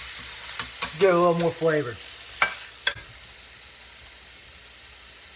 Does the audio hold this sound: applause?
no